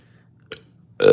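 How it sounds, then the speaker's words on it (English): A single loud, close human burp after a brief quiet moment, cut off at the end. "And why it got me burping so much?"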